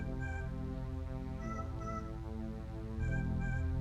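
Cat meows inside a horror video game, several moderate harmonic cries repeating over a steady, dense musical drone, with a louder meow near the end.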